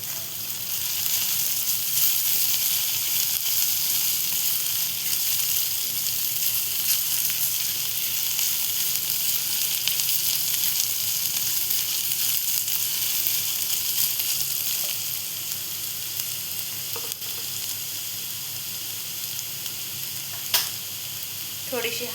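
Green chillies frying in hot oil in a pan, a steady close sizzle and crackle running throughout with occasional stirring clinks.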